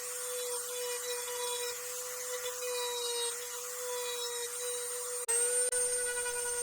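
A handheld Dremel rotary tool whines steadily at high speed while carving a painted Christmas snowman picture into a 1x8 wood board, held at an angle; the continuous tone holds for several seconds, then shifts and briefly cuts out near the end.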